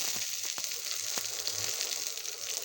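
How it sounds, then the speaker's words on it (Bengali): Garlic cloves hitting hot mustard oil in a kadai give a close, continuous crackling sizzle with a few sharp pops and spatters, and no voices. "এই রসুনের কোয়াগুলো দিয়ে দিচ্ছি।"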